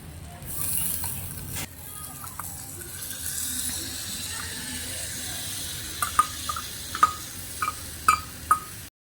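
Rice for a miniature Basanti pulao sizzles gently in a tiny pan on a miniature kitchen setup, with soft frying hiss and a series of sharp stirring clicks of a small utensil against the pan toward the end.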